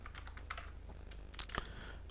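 Quiet, close typing on a computer keyboard: a few scattered key clicks with a brief faster burst near the end, no voices.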